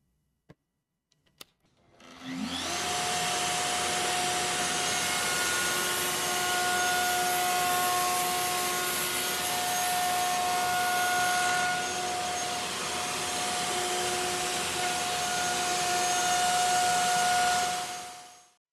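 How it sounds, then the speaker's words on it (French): A Festool KA 65 Conturo edgebander trims an edge band, a few clicks at the start and then a loud, steady high-pitched motor whine with rubbing cutter noise, close up and continuous before stopping. "je pose ma machine sur la pièce, je démarre la rotation"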